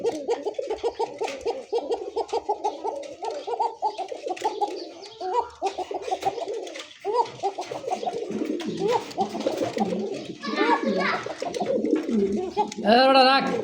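Pigeons in a loft coo repeatedly in soft, throaty, rhythmic calls, several birds overlapping close by with a few brief human sounds mixed in.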